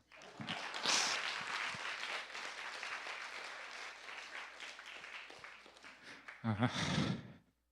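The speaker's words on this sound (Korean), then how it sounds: "박수 한번 쳐주세요." An audience at a church seminar applauds warmly, a sustained crowd clapping that swells early, then settles and tapers, with a closer burst of sound near the end.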